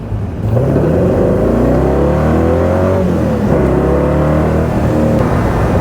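AC Cobra accelerating hard as its rear tyres lose traction, the engine roaring loud and close in a steady, sustained surge with rising, wavering revs and no voices.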